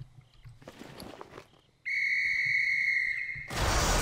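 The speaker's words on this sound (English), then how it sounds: "I have a whistle" A whistle blown by a character in World of Warcraft, a sustained steady tone lasting over a second and a half that cuts in sharply over quiet background game sounds and ends in a burst of noise.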